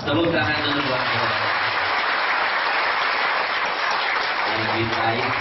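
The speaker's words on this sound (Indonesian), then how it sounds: "Tepuk tangan dulu buat saya." Loud, dense clapping from a crowd at an Islamic sermon, a continuous rain-like roar of many hands that fills the space, with voices heard faintly near the start and end.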